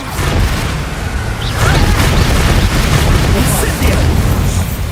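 Expulso explosion spell going off in Hogwarts Legacy, a loud continuous rumbling blast with crackling debris that swells midway and stays heavy to the end.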